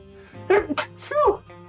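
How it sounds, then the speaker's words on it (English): A person sneezes sharply, then gives a second sneeze moments later, close by over a faint background hum. "That sneeze hit me out of nowhere."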